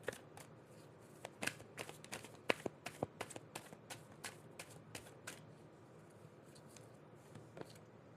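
Tarot cards are shuffled in a quiet room, a faint run of light riffling snaps and taps over several seconds.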